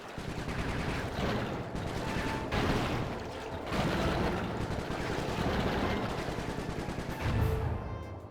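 Gunfire rattles through a Sly 3: Honour Among Thieves game scene in rapid, repeated bursts, loud and sustained for about eight seconds, with a few heavier blasts standing out and no voices.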